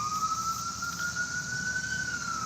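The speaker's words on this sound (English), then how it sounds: "And the sirens that go with it." An emergency siren sounds steadily, a single rising tone holding close and loud over a rumbling, noisy background.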